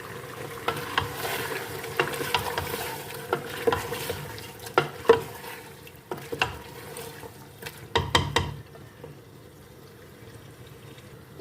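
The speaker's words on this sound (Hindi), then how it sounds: "दो मिनट इसको हम ऑयल में अच्छे से फ्राई कर लेते हैं, भून लेते हैं अच्छे से चिकन को" Chicken frying in oil in a pot with softened tomatoes for biryani, stirred with irregular scraping and clinking strokes against the pot over a faint sizzle, close but quiet, fading toward the end.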